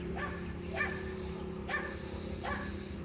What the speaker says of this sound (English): Got the dogs all startled up.